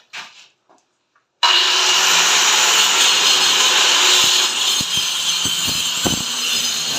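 A powered machine grinds and breaks stone with a sudden loud start after a few quiet seconds. It holds a steady harsh roar with scattered sharp knocks, close by and with no voices.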